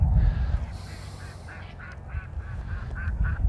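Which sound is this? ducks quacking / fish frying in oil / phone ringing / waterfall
ducks quacking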